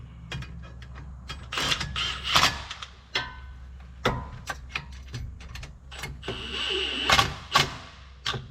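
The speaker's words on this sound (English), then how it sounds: "I'd say go ahead and tighten them" Clicks, ratcheting bursts and metallic knocks come in irregular clusters, close by and moderately loud, as bolts are tightened on a steering stabilizer being installed on a Cummins-powered one-ton Ford Bronco.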